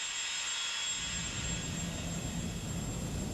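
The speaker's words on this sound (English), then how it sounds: "this powerful compressor forces the gas stream through the process" Industrial air compressor in an air separation plant, a loud continuous roaring drone with a high whine on top, steady and close throughout.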